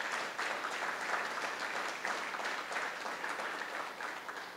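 Steady audience applause from a staff group celebrating a hospital accreditation, dense and continuous with many hands clapping at once, holding an even level throughout with no voices over it.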